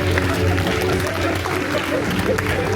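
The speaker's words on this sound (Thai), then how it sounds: "ขอเสียงปรบมือต้อนรับ ดรปีวัตรหลุยลาประเสริฐคณบดีวิทยาลัยดุริยางคศิลป์คนที่ 3 ครับ" Audience applause welcoming a new dean at an anniversary ceremony of a music college, a dense wash of clapping mixed with crowd murmur and a faint voice underneath, steady and moderately loud.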